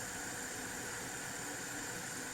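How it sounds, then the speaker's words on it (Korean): Built-in cooling fan of an Anbernic RG556 Android retro gaming handheld set to strong mode, giving a steady, faint airy whir that stays even throughout, heard up close with no talking. "스트롱 모드로 세팅을 하고 팬 소음을 들려드릴게요."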